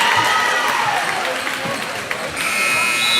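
Buzzer sounding at the end of the first period of a high school varsity boys and girls basketball game, brief and buried under a loud gym crowd cheering and applauding.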